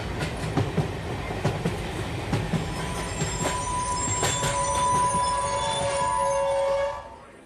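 A train runs on rails with rhythmic clickety-clack and rumbling wheels, then long high wheel squeals rise before the noise cuts off abruptly near the end.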